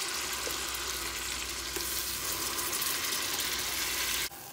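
Pre-minced garlic sizzles in melted butter in a pan, a steady close hiss with faint stirring that stops abruptly near the end.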